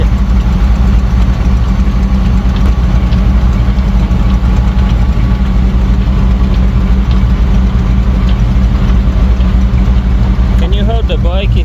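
Buick 3800 engine idling with a leaking rear exhaust manifold gasket, a loud steady close rumble with a ticking texture, and faint voices toward the end.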